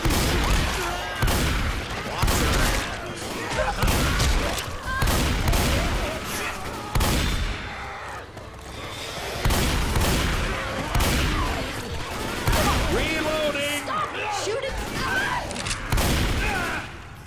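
Left 4 Dead 2 gameplay: a shotgun fires repeatedly in loud, booming blasts spaced a second or two apart, mixed with other in-game gunfire and commotion, with occasional voices in the background.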